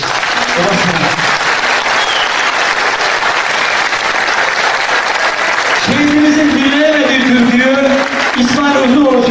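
A crowd at a memorial for a fallen Turkish soldier claps loudly and continuously, a dense wash of applause, with a voice rising over it toward the end.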